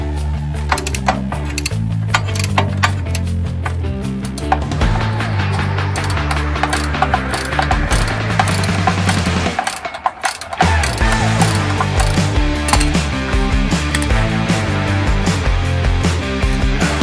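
A ratchet wrench clicks rapidly and continuously, loud and close, as bolts are loosened under the front bumper of a first-generation Dodge Cummins truck, with a short pause midway before the ratcheting resumes.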